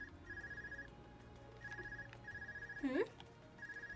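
A phone rings in the video game Trails of Cold Steel in repeated electronic bursts, paired rhythmic tones over a steady background hum, with a brief rising chirp partway through.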